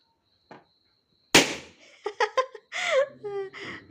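A single loud, sharp pop of a balloon bursts near the start, followed by a child's giggles and laughter, with a fainter tap before it.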